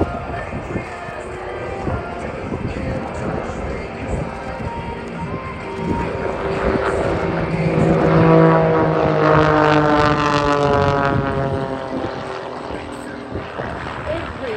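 An aerobatic aircraft at the Australian International Airshow 2023 drones overhead, its engine rising to a loud peak midway and then fading, with someone talking over it.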